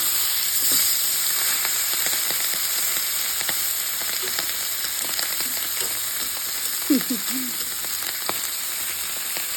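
Hot oil sizzles and crackles steadily as hilsa fish fries in a pan, a constant bubbling hiss with occasional louder pops and light clinks.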